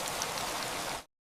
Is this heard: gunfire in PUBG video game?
no